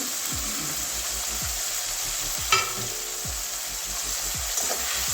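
Chopped onion with ginger-garlic paste fries in a pan for a Bengali rohu fish roe dish, a steady hissing sizzle broken by a regular scrape of the spatula about once a second, close and continuous.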